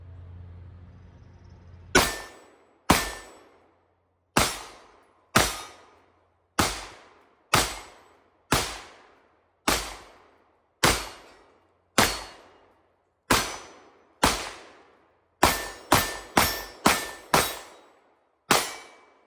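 A .22 caliber flamethrower round fired from a Rock Island double stack 1911 pistol, heard as about fifteen sharp, loud cracks, each with a quick ringing decay, spaced roughly a second apart and bunched faster near the end.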